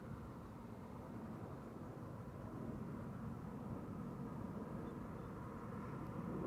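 Airliner arriving on the Polderbaan runway 18R at Amsterdam Schiphol Airport, heard as a faint, distant, steady broadband rumble that builds slightly over several seconds.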